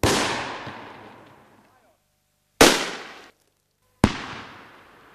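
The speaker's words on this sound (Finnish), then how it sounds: "Tosin virvoitusjuomapullojen erot tekivät räjähdyksen suunnan arvaamattomaksi." Homemade soda bottle bombs exploding outdoors: three sharp, loud blasts, the first with a long rumbling decay, the next two following after short gaps and ringing out more briefly.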